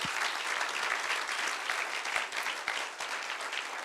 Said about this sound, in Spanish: Yo me atrevo a darle un aplauso a Jesús esta hora.